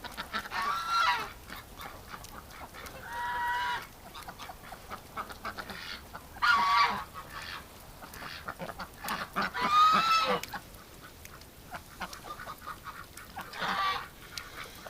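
Ducks honk and quack in bursts during a bitterly cold winter at about -18°C, loud nearby calls separated by quieter gaps, with no one talking.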